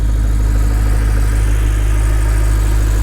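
A 2014 Audi R8 with the 4.2 engine runs at a steady, loud mid-pitched drone with a deep pulsing rumble, heard continuously and close with no talk.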